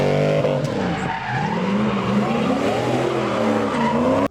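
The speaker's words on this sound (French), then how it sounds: "Voilà, le drift, évidemment." A car drifting with its tires skidding and squealing, a loud continuous screech over engine roar that bends in pitch throughout, with no talk.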